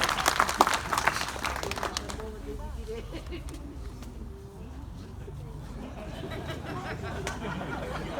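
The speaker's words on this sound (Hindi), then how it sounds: "एक बार आप लोग जोरदार ताली बजाओ" Audience applause at a Hindi kavi sammelan poetry recital, a dense burst of clapping at the start that settles into a steady crowd murmur and scattered claps.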